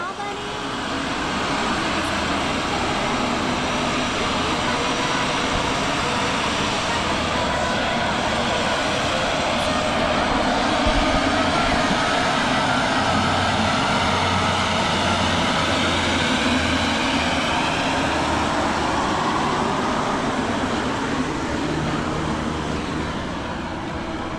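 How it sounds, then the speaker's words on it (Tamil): A small passenger plane's engines roar loud and steady at Jomsom airport during landing and takeoff, a broad continuous drone filling the whole stretch with no break. "அந்த ஃப்ளைட்டு இறங்குறது ஏறுறது பார்த்தீங்கன்னா சவுண்டு பயங்கரமாக இருக்குது"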